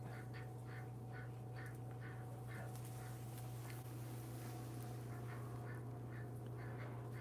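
A duck in barn straw making a series of soft rhythmic quacks and dabbling sounds close by, over a constant low electrical hum.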